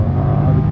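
Triumph Tiger 1200 motorcycle accelerating hard into a wheelie, a loud, close, steady engine roar with a low rumbling drone that eases off slightly near the end.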